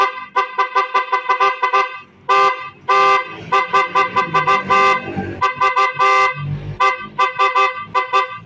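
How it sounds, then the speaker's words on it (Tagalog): A car's stock factory horn honks loudly and repeatedly in short bursts and longer blasts, close by, with an irregular stop-start rhythm. "So heto yung normal na tunog ng busina ni boss."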